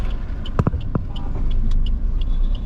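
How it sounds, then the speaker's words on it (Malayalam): Night road traffic in Mumbai near the city police commissioner's office, a steady close rumble of car engines with a few sharp knocks and faint horn-like tones over the continuous drone. "ട്രാഫിക് ഉണ്ട്, അത്യാവശ്യം നല്ല ട്രാഫിക് തന്നെ കൂടി വരുന്നുണ്ട്."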